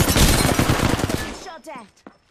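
Video game gunfire comes as a loud, rapid automatic burst of close shots that stops abruptly, leaving a brief tail of quieter sounds and a voice at the end.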